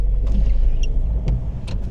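Car on the road during a driving lesson, with a low steady engine rumble and road noise continuing throughout and a few brief clicks and squeaks from inside the cabin.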